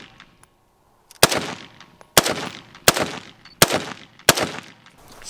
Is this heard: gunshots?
yes